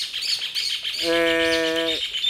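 A small bird chirps in a home kitchen during rice cooking, giving one clear sustained tonal call of about a second, under light background noise and with no talking.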